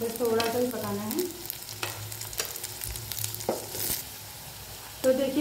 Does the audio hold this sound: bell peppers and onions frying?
yes